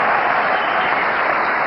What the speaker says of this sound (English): Getting generous applause